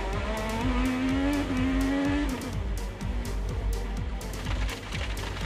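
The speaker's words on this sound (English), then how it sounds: "Here's an in-car. We'll get a good view here. On board Dixon. Comes out on the power." Onboard IndyCar engine screaming under hard acceleration out of a corner, a loud, close, high-pitched whine rising steadily, broken by rapid gearshift blips and sharp pops throughout.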